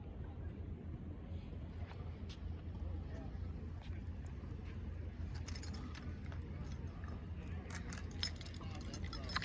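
Key fob and car keys for a 2002 Honda S2000 jangle in short, light metallic rattles scattered over steady outdoor wind noise, close to the microphone and alone without talk.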